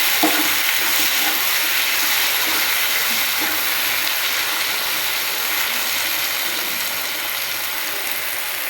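Green chillies frying in a pan, giving a loud, continuous sizzle and crackle that holds steady throughout.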